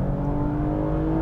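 A 2022 Toyota Camry TRD with a V6 engine accelerates hard while its tires spin, giving a loud, steady engine drone that holds close and even for just over a second with no voices over it.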